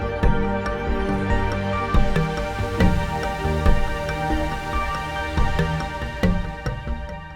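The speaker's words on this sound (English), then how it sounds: "As you can hear, there is both an arpeggiator and a drum loop." A Yamaha MX61 synthesizer patch plays a rhythmic arpeggiated synth pattern over a punchy drum loop with regular kick and percussive hits, loud and close with no talking.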